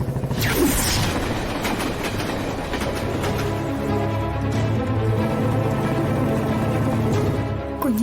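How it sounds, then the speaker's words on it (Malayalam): Train passing close by, a loud steady rumble with rhythmic clickety-clack of wagons over the rails and brief metallic squeals, continuous throughout with no voices. "ട്രെയിൻ ഇപ്പൊ വരും"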